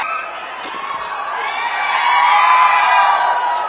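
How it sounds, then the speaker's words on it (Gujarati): A large crowd at a political rally cheers and applauds for Punjab Chief Minister Bhagwant Mann, a broad roar of voices that swells and holds loud throughout, with whoops rising out of the mass. "મિત્રો, આપણે તાળીઓથી વધાવી લઈશું."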